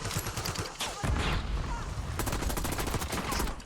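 Rapid video game gunfire, including sniper shots, in a dense continuous barrage of loud cracks and booms throughout with no pause.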